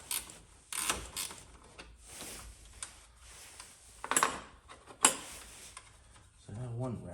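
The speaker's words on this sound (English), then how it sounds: "ratcheting wrench" A ratcheting wrench clicks on a bolt during a horn install under the hood of a Lexus IS F V8 track car, with faint irregular bursts of clicking and rubbing plus a short spoken phrase near the end.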